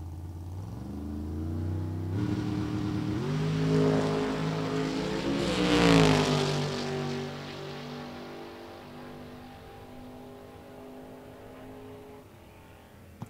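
A drag racing car makes a qualifying run at Great Bend, reaching about 179 mph. Its loud engine roar climbs in pitch through several gear shifts, peaks near the middle, then fades steadily as the car pulls away, with no voices over it.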